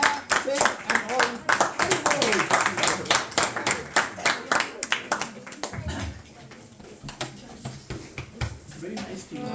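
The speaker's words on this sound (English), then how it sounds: "Please give a round of applause to Vivian, Sia, Radha, Sid and all." Audience clapping at a Bhagavad Gita study gathering, a run of sharp, close handclaps for several seconds that thins out and fades, with voices speaking around it.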